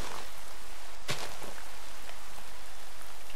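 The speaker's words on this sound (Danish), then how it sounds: "Det regner stadigvæk." Rain falling in Minecraft, a steady loud hiss of downpour that keeps going unbroken, with one brief sharp burst near the start.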